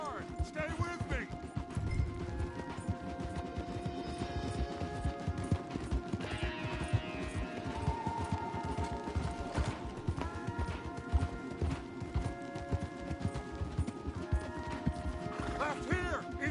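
Horses gallop hard in Red Dead Redemption 2, a rapid continuous clip-clop of hooves with occasional neighs and creaking tack, close and steady under intermittent talk and game music.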